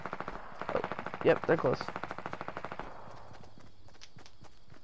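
Fast automatic gunfire in the battle royale game Fortnite, a loud rhythmic string of close shots for a couple of seconds, followed by scattered single cracks, with a voice speaking briefly over it.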